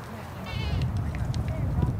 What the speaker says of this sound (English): these goats are amazing in terms that it seems like they climb up those with no problems